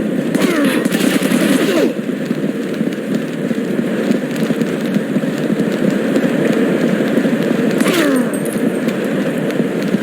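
Rapid gunfire from the video game Rainbow Six 3, dense bursts of shots rattling continuously and loudly throughout, with no talk over them.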